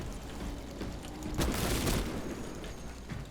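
Bolter gunfire in Space Marine 2 sounds as a mid-distance burst of rapid shots, a dense crackling volley swelling for about half a second over a steady low game rumble.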